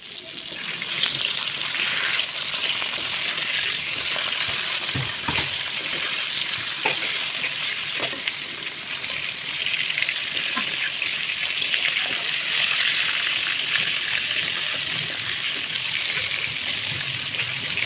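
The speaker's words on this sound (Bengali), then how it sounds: "এগুলোতে আমি হলুদ, লবণ সামান্য পরিমাণে দিয়ে এগুলোকে আমি খুব ভালোভাবে ফ্রাই করে নিব" Fish seasoned with turmeric and salt frying in hot oil, a steady, dense crackling sizzle that runs unbroken and fairly loud, with occasional small pops and no talk over it.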